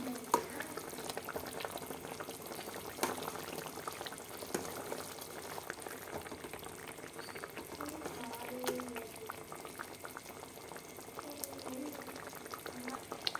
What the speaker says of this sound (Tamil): நம்ம கொஞ்ச நேரம் மூடி வைக்கலாம் நல்லா வெந்து வரட்டும் நல்லா கொதிச்சிருச்சு